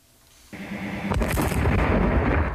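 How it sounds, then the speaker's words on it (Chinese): A bomb blast in southern Lebanon during an Israeli military operation against Hezbollah tunnels, a sudden loud boom swelling into a sustained deep rumble and roar that fills the rest of the moment, with no voices. "一声爆炸，炸出巨大烟团"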